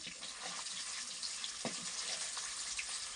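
Paneer cubes frying in a pan give off a steady, fairly quiet hiss and sizzle with faint scattered crackles, running continuously with no pauses and no voice over it.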